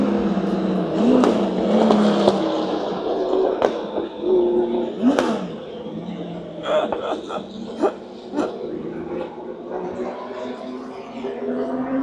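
Porsche 917 race cars roar past one after another on a circuit, engines rising and fading with sharp passing sweeps, a steady loud rumble throughout.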